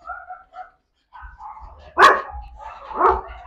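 Dogs at a family dog kennel bark and yip, a few sharp barks standing out over softer whines and low background rumble, fairly close.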